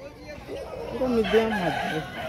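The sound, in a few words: Aseel rooster crowing at village market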